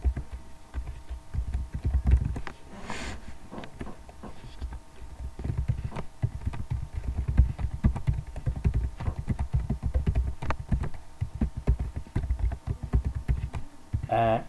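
Steady, fast typing of HTML code on a computer keyboard, a dense patter of close key clicks running continuously without a break and with no voice.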